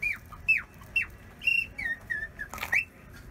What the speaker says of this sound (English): We got a kookaburra whistle.